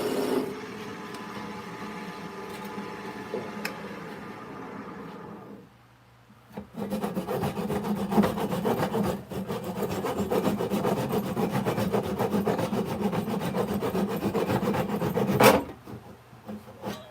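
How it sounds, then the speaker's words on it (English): A saw cuts off the end of a wooden tenon in a woodworking shop, with steady, loud back-and-forth rasping strokes that stop briefly partway, then resume continuously until a final scrape. "The tenon is too long. I didn't realize that. I was wrong. Let's chop that off a little bit."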